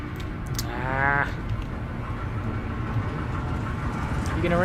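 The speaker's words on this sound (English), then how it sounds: "Oh, hey, there goes a train." A train rumbles past in the horror video game Amnesia: A Machine for Pigs, a low continuous roar with a rising whistle-like tone near the start, heard alone at moderate loudness.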